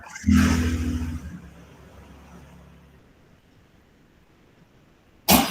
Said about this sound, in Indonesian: ini siapa tuh batuk-batuk?